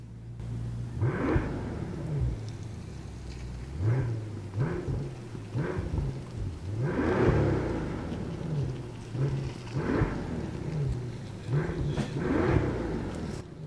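A Mercedes-Maybach S650 Cabriolet V12 engine revs repeatedly in short bursts, each rising and falling in pitch, with a steady idle rumbling between the blips.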